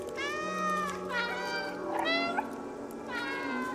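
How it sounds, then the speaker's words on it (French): Cats meow in the video game Stray, several clear, close meows in turn, each rising and falling, answering one another over a soft steady tone. "Appuie sur B pour miauler."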